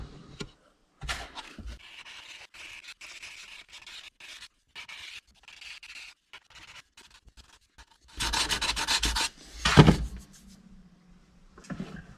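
A repaired Gibson SG headstock is worked with 240-grit sandpaper in short, irregular rubbing strokes, mostly soft and close, with a louder, harsher scrubbing burst near the end.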